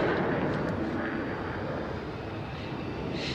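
Steady, broad jet engine roar from the Boom XB-1 supersonic jet in flight, loud and continuous throughout with no voices.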